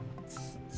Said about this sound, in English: You see, I even got you some body spray.